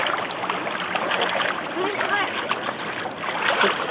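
Splashing in Atlantic Ocean water at the beach, steady sloshing and spattering throughout, fairly loud and close, with voices talking and calling over it.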